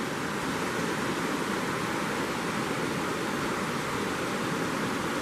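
A creek flows steadily past a woody debris jam on Lost Creek, a loud, continuous broadband rush of water with no breaks and no voices.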